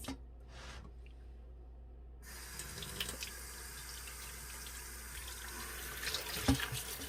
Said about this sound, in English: So this is the way I wash it. Instead of the lime and salt, you just wash it like this.